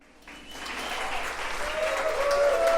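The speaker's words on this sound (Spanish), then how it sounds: "Denle un aplauso a mi Gus" Applause from a church congregation welcoming a man to the front, starting softly and swelling into steady, building clapping as a faint tone rings underneath.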